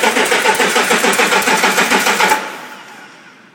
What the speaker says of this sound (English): it's going to be cranking a Cat 14-liter diesel engine, full compression, full test.